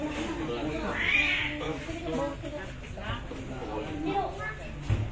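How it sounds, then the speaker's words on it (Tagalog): Cats fighting and yowling in Santa Rosa, Santa Maria, Pangasinan, with a rising yowl early on amid nearby voices and household noise. "Nag-aaway ng mga pusa."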